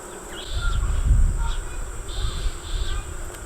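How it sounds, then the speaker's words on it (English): Honey bees buzz around a well-filled backyard hive being inspected, a soft droning hum with insect and bird sounds in the background and some low rumbling noise. "There's a few more bees than I thought there would be"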